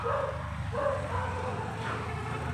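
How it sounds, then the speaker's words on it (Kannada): A dog barks in short, repeated bursts as it runs up toward a house in the evening, close by over a steady background hum, with no talking. "ನಾಯಿ ಹೆಂಗೆ ಓಡಿಸ್ಕೊ ಬರ್ತೇವೆ"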